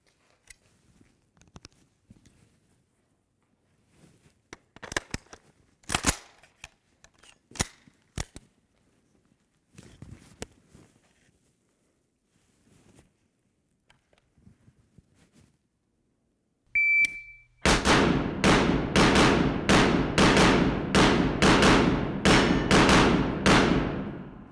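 A close-quarter pistol drill of 15 rounds, preceded by quiet handling and a beep, then rapid gunfire, loud, close and evenly spaced shots in a fast string with a few clusters.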